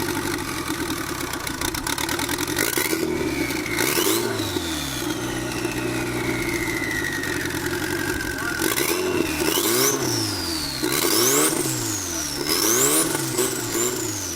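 A car engine running without a tune and with its check engine light on idles with a steady low rumble, occasionally revving up and dropping back, while high whistling tones sweep up and down.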